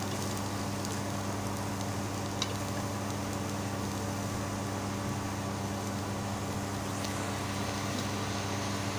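Onion, ginger and garlic roast in oil in a pan for a Marathi kartoli (spiny gourd) vegetable dish, producing a steady, low, close frying hiss over a constant hum, with a couple of faint clicks and no voices.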